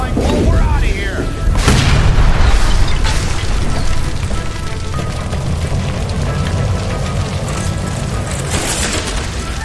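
Gas line explosion in the video game L.A. Noire: a loud boom bursts out and rolls into a sustained roar of fire and debris lasting several seconds.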